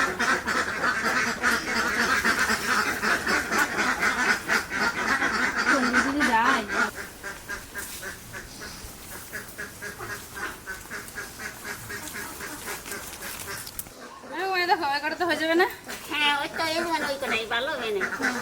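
Ducks at a rural monsoon wetland quack in a burst of loud, close calls near the end, after a stretch where a person speaks over steady outdoor background noise.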